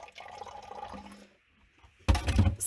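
Warm liquid lamb feed pours into an empty Sprite bottle, gurgling steadily for about a second before a pause, then a louder, bubbly glug of pouring close by.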